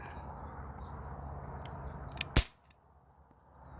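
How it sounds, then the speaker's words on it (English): An Umarex Glock 19 CO2 BB pistol fitted with an Air Venturi HPA/CO2 conversion adapter fires a single sharp, loud crack, with a fainter click just before it, over a low background hum. "So I'm going to start firing."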